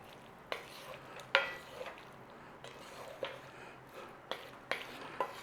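Aloo gobi being stirred together with lemon juice and coriander, with soft scraping and occasional sharp clinks of a utensil against the pan over a faint background hiss.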